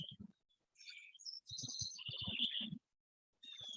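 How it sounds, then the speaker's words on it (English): Birdsong outdoors from blue jays and house wrens, with bright chirping calls in bursts and a steady high whistle, fairly close, plus a few faint low thumps between calls. "the blue jays are making a ruckus. House wrens are calling. Carolina wrens are calling"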